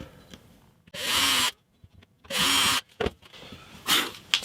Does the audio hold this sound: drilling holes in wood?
yes